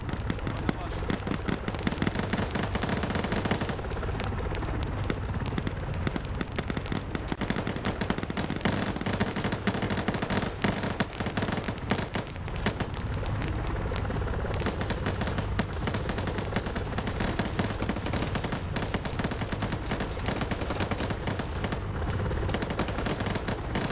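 Sustained rapid gunfire from soldiers and minigunners during a ship breach in a video game, dense continuous bursts of shots and impacts filling the mix with a voice talking over it.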